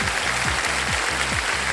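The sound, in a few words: applause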